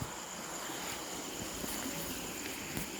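A water pump discharges water in a continuous rushing, hissing flow, steady and broadband throughout without pauses.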